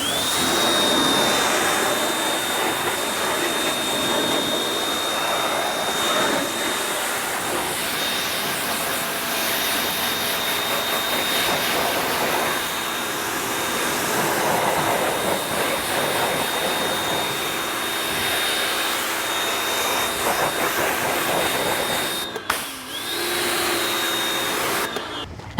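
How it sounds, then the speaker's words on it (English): Steady broadband hiss of water spray rinsing off dirty car wheels and tires, loud and continuous for the whole stretch with a brief dip near the end, with no talk over it. "then you rinse it all off"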